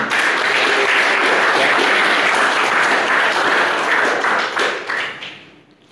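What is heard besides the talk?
applause in a lecture class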